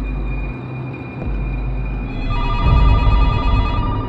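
A telephone in a horror film rings loudly with a shrill, repeating electronic tone over a deep rumbling backdrop, and the ringing grows denser toward the end.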